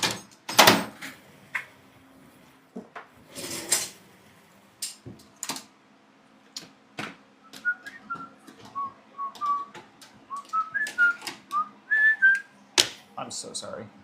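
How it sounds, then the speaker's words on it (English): A woman on a livestream whistles a short, wavering tune in the second half, thin and fairly close, after scattered knocks, clicks and handling noises in a quiet room. "I tend to do that whistle whenever someone has to listen to me."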